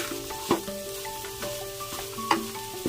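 Fish fried with green chillies for a fish chutney sizzles softly in a pan while a utensil stirs it, giving a couple of sharp scraping strokes over a low continuous hiss.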